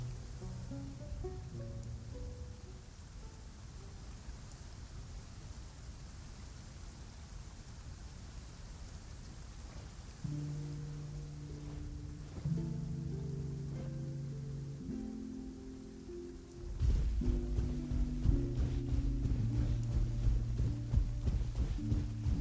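Steady rain falls in Genshin Impact, a broad even hiss that runs throughout the scene, with no talking, while a soft game music score comes in beneath it and builds toward the end.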